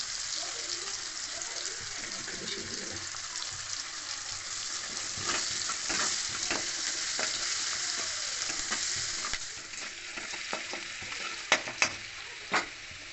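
Onions sizzle as they fry in a pan for a Bengali soybean and mustard curry. A continuous hiss is broken by stirring scrapes and a few sharp clinks near the end.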